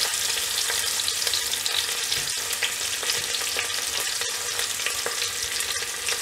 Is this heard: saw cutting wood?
no